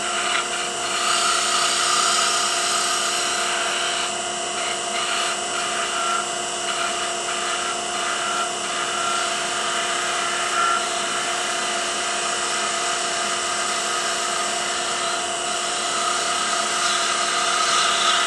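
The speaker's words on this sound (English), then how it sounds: "Should probably turn the lathe speed up a little bit." A wood lathe turns a wine stopper, producing a steady loud high-pitched whir with a constant tonal hum underneath and faint scraping textures from the cutting tool, continuous throughout with no speech.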